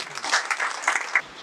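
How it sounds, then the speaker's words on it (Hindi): Crowd applause at a Hindi humour poetry gathering (kavi sammelan) in Jaipur, heard as a steady wash of many hands clapping, moderately loud, with surges of louder clapping and no voices on top. "तो एक बार जोरदार तालियां।"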